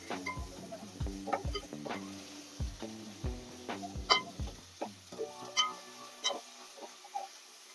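Pieces of mutton tumbled into a pan and stirred for a Telugu mutton curry, a series of distinct thuds and scrapes in an uneven rhythm, fairly quiet with a light sizzle beneath.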